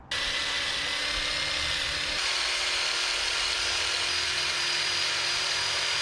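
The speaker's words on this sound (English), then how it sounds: "so once you hit it with the wire wheel, then you brake clean it." A wire wheel spins against old truck parts during cleaning, giving a steady, loud, harsh whirring grind with a high metallic whine that holds continuously from start to finish.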